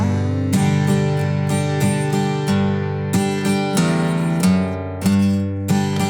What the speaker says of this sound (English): Every now and then you could do a little bass run, which is basically open, first finger, and G.